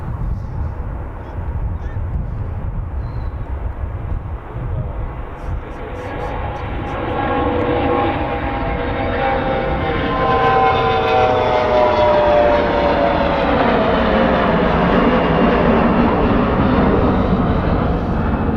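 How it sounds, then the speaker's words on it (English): A Boeing C-17 Globemaster takes off at Charlotte Douglas Airport, its jet engine roar building steadily from a distant rumble to a loud, sustained, sweeping whine as the aircraft passes, heard alone without talk. "we've got a Boeing C-17 Globemaster that we're gonna get on takeoff"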